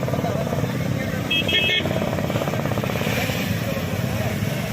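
Steady engine drone of motorcycles revving together at the start of a voter-awareness bike rally in Koppal, a continuous rumble with a brief horn-like tone midway and crowd chatter underneath.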